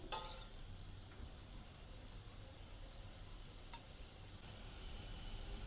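Mixed vegetables for street-style masala Maggi sizzle steadily in a hot pan, a continuous quiet frying hiss with a few soft clinks of the spoon against the pan and no talking.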